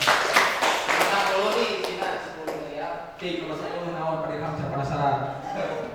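An audience at a school session at a vocational high school applauds briefly in a scattered burst that fades after a couple of seconds, followed by people talking.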